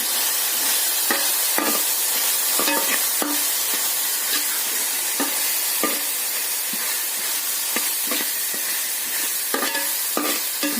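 Rava upma with turmeric stirred in a hot pan, a constant loud sizzling hiss cut by frequent scraping clacks of the spoon against the pan over the whole stretch, with no voices.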